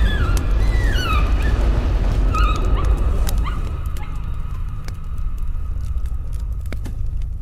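A dog in the video game Layers of Fear barks and yips in short bursts, then whimpers and squeaks over a steady low rumble, with the barking fading as a quieter, crackling background takes over.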